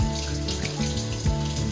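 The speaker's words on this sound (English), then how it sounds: "I'm just going to rinse the brine off." Tap water runs steadily into a sink as brine is rinsed off a turkey, a close continuous splashing stream with brief changes where the flow hits the bird.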